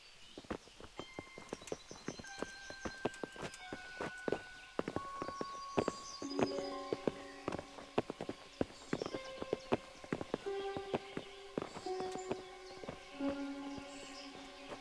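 Horse hooves clip-clop in the video game Kingdom Come: Deliverance, a brisk irregular run of sharp close hoofbeats from several horses, with tonal game music sustained underneath.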